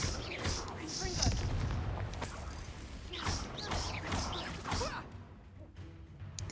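Confringo blasting spells fired in Hogwarts Legacy, several booming, whooshing bursts in quick succession amid dense game combat noise, with a voice speaking over the action.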